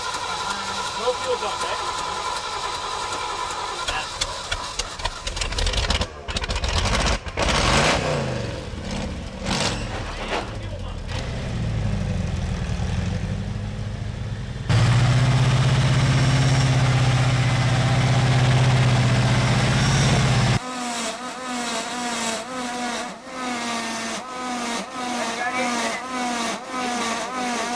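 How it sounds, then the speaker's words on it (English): Off-road truck at a 2000 competition: the engine cranks and starts, a loud steady idle drones for several seconds, then the motor revs and labours roughly, with someone talking briefly over it. "Okay, start motor."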